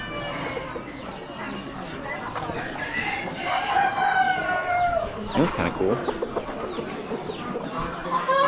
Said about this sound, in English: And a couple of hens. Couple of big boy roosters.